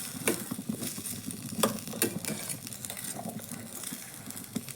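Potatoes and spices being stirred in a frying pan, with a steady sizzle under repeated scraping and clinking strokes of a spoon against the pan, close and moderately loud, no voices.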